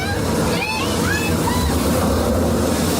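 An interactive water feature at Epcot splashes and sloshes loudly and close by, a dense rushing spray with crowd chatter and excited voices mixed over it throughout.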